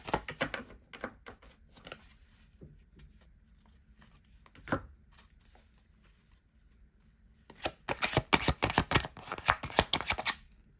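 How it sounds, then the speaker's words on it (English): Tarot cards are shuffled by hand during a reading: a few scattered papery riffles at first, then a quiet stretch, then a dense, fast flurry of crisp card flicks near the end, close up with no talking. "I'm going to shuffle and pull the card for you"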